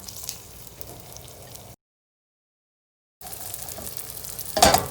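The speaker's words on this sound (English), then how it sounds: "we're gonna take these par-cooked potatoes, and we're just gonna place them slice side down" Par-cooked potatoes sizzling in hot fat in a roasting pan, a soft steady frying hiss that cuts out to silence for over a second, then returns and ends in a louder burst of crackle.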